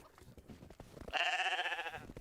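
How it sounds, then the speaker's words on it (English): Sheep bleating among cattle on a snowy farm in the medieval life-sim game Medieval Dynasty: a wavering, tremulous bleat rises loud and near after a second of quieter low background noise, with no talk. "The cattle are lowing. The sheep are grazing snow"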